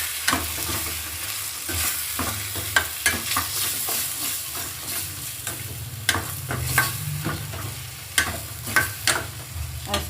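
Lentils with chili powder and salt sauté in a pan, a steady soft sizzle broken by repeated scraping stirs of a spoon, close and clear with no talk.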